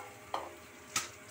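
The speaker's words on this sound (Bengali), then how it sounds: "পেঁয়াজটাকে একটু লাল লাল করে ভাজছি" Chopped onions fry quietly in a pan for a pomfret mustard-poppy-seed curry, a soft low sizzle broken by two distinct scraping stirs of a spatula.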